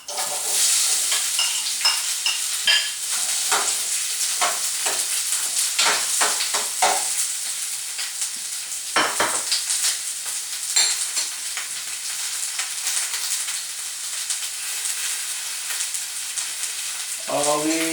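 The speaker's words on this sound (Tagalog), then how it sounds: "We call this the sauté process." Onions sautéing in hot oil for sautéed sardines with chayote give a loud, close, continuous sizzle, broken by frequent scraping stirs and spatula knocks in the first half, then settling into a steady hiss.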